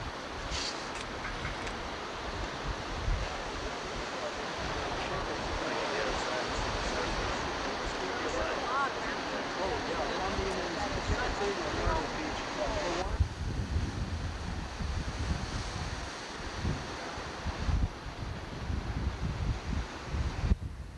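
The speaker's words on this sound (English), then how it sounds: "Pacific Ocean." Pacific Ocean surf and wind at Sunset Beach near San Francisco, a steady broad wash of waves and gusting wind that stays fairly loud and unbroken throughout, with no voices.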